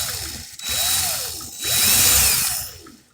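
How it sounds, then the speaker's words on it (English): A power drill runs in reverse to twist a Clapton wire coil tight again, whirring in two long bursts with a brief pause between and rising, sweeping pitch as the motor spins up. "I'm holding it and putting the drill in reverse just to tighten that Clapton back up"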